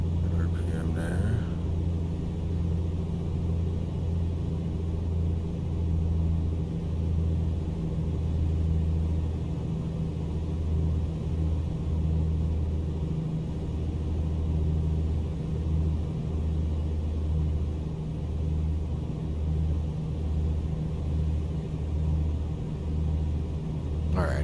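The Comanche 250 piston engine in Microsoft Flight Simulator drones steadily throughout, a loud continuous low rumble with slight wavering as power is reduced, while someone talks over it.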